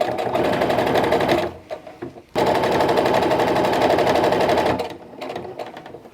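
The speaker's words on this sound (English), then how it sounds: "Sew over everything. And then keep on going till the end." A sewing machine stitches a fabric face mask in fast, rattling bursts, two long loud runs with a short pause between and a quieter stop-start stretch at the end, close up with no talk.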